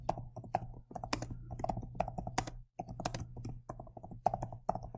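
Quick, uneven bursts of computer keyboard typing with crisp clicks, recorded close and quiet, with one short pause midway and no voices.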